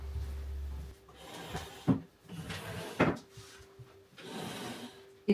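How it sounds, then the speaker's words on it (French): Wooden chairs are set back in place after a robot vacuum finishes, with a series of scrapes, bumps and knocks spread across several seconds, close and fairly loud, with no speech. "Je vais remettre les chaises maintenant que le robot a fini."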